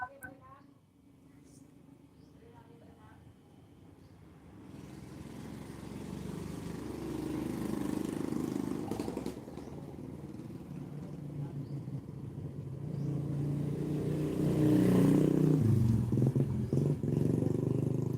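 Loud unmuffled motorcycles pass on a street in the Philippines, engine roar building from moderate to loud and swelling into a heavy, rumbling peak near the end, with someone talking over it.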